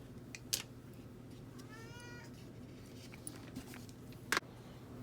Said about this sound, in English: The cat wants to show you too, but you go away, kitty.